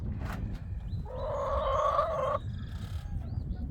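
A chicken in a yard lets out a drawn-out, tonal cackling call lasting about a second and a half, with a few fainter chirps around it over a low rumble of wind.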